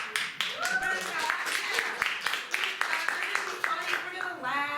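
An improv show audience breaks into short, scattered clapping in a few quick bursts under ongoing voices, fairly close and moderately loud.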